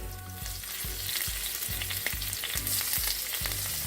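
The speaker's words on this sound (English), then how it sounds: "this is just to release the flavor from the curry powder and kind of season the oil with the garlic and pepper" Garlic, hot pepper and curry powder sizzle in hot oil for a Jamaican curry chicken, a steady close crackle with regular low thumps of stirring throughout.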